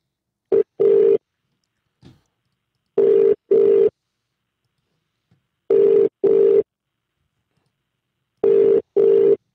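Telephone tone while placing a call: paired steady beeps repeat four times at regular intervals with silent gaps between, loud and clean, with no talking.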